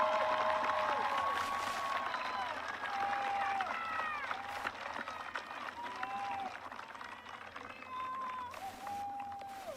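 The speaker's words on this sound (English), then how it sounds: "Let's give our graduates another round of applause" A crowd claps for graduates at a high school graduation ceremony in Luverne, Alabama. The sustained applause is mixed with repeated shrill whistles and scattered cheering, and it softens slightly over time.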